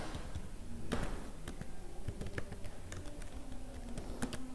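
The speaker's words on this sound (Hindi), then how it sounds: "एंटर करने के बाद दो बार टैब बटन दबाएंगे" Computer keyboard keys typed in MS Word while entering an application letter, a quick irregular patter of soft clicks with a few heavier key presses, steady and close, with no voices.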